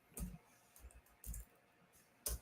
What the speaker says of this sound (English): my typing is crushing it right now